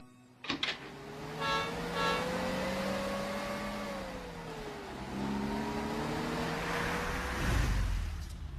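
A long car arrives with a rising engine drone that shifts gear partway through, then settles to a steady hum as it pulls up close, with a door-like thud at the start.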